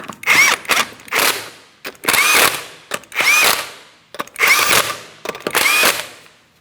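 A power tool spins 19mm lug nuts onto a car wheel on a 2004-2008 Pontiac Grand Prix 3.8L, with five close, loud whirring bursts, each ending in a ratcheting buzz, separated by brief gaps.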